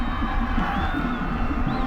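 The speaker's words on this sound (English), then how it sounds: "So that brings the crowd of the blue and gold faithful across the way on the east sidelines to their feet to cheer." Blue-and-gold home fans on the east sidelines of a 2003 high school state championship football game rise to cheer after a touchdown, a loud, dense roar of distant crowd voices and whoops sustained throughout.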